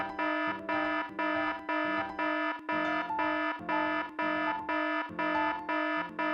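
A buzzer on a railway station signalling panel sounds in a rapid on-off pattern, about a dozen harsh, steady electronic bursts with short gaps between them, loud and alone.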